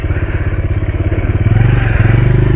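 A motorcycle chugs close by with a loud, rapid, pulsing engine beat, riding off-road along a muddy track beside a railway line, rising slightly as it pulls away.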